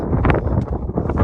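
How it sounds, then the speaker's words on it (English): Steady wind buffets the microphone on North Twin Mountain in the White Mountains in fall, a low, rumbling roar that gusts slightly but never lets up. "Windy here."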